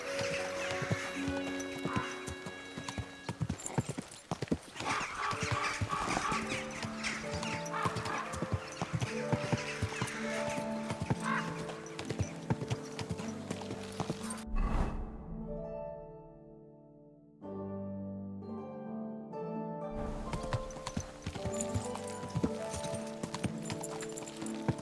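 Horse hooves clip-clop steadily in the medieval game Kingdom Come: Deliverance II, rhythmic footfalls over a rich musical and ambient bed, with a brief near-silent gap mid-way before the trotting and music resume.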